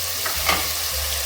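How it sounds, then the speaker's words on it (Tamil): Ginger garlic paste sizzles in hot oil while frying for a vegetable biryani, a steady close crackle with a quick stirring scrape in the middle. "இஞ்சி பூண்டு நல்லா வதங்கணும்."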